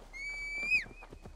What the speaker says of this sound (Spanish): Tendremos que ir con un caballo. ¿Tenemos el caballo?